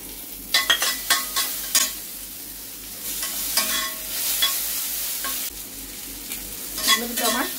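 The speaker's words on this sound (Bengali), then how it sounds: "এবার দিয়ে দিচ্ছি টমেটোগুলো" Tomatoes stirred into hot oil with sesame seeds while frying spice paste for a jackfruit dish, giving a steady sizzle with repeated scraping stir strokes, close and fairly loud.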